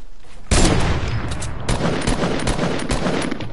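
Shotgun blasts in a PS4 shooter game, a sudden loud report followed by a dense run of repeated gunfire bursts, close and harsh, no talking.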